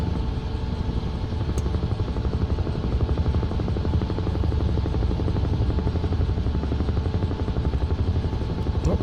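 A UH-1 helicopter in Microsoft Flight Simulator 2024 drones in flight with a loud, steady rotor thump over a continuous turbine whine, unbroken throughout.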